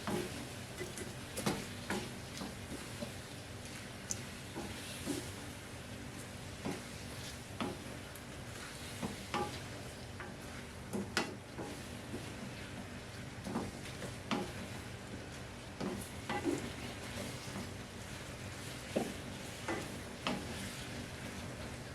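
Beef stir-fried in a pan, a steady soft sizzle with frequent light clicks and scrapes of a utensil mixing the meat at an irregular rhythm, quiet and close.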